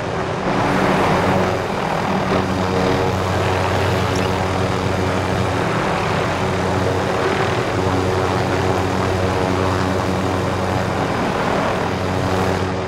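Helicopter in the game Call of Duty: Modern Warfare flies overhead with a loud, steady rotor and engine drone that swells slightly at the start and holds throughout.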